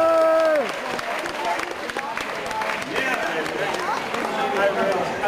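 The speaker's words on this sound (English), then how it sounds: "Give a nice round of applause, ladies and gentlemen, for our fine accordion player" Audience applause greets an accordion player at a live Polish polka band performance, dense clapping sustained across the clip after a brief held musical note fades at the start, with voices mixed in.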